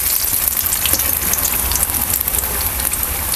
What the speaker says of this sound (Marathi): आणि चांगलं असं आपल्याला हे तळून घ्यायचं आहे पलटी करून करून.